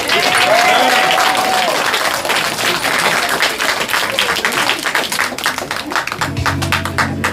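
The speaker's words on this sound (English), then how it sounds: "Give him another round of applause." An audience at a poetry and jazz book-tour event applauds a poet after his reading, loud sustained clapping with some crowd noise and voices, tapering near the end as a low tone enters.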